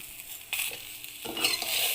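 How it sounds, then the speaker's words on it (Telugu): Green chillies fry in a pan with a bright hissing sizzle that swells after stirring, close and steady, with no voices. "చూడండి, ఇవి ఫ్రై అయిపోతున్నాయి"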